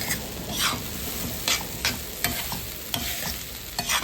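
A spoon scrapes and stirs spicy eggplant bharit in a hot pan, steady sizzling with rhythmic scraping strokes, close and alone.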